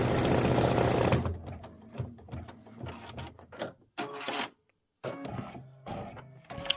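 An embroidery machine stitches out a tail piecing template for a Kimberbell turkey pillow, a brief steady whir giving way to rapid, uneven mechanical clatter with short pauses between bursts.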